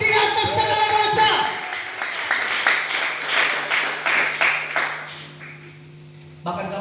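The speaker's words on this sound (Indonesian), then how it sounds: "Berikan tepuk tangan yang paling meriah bagi Raja di atas segala raja." Church congregation clapping during an Indonesian Pentecostal Christmas celebration, a dense run of applause under a preacher's voice over a sustained low tone, fading out near the end.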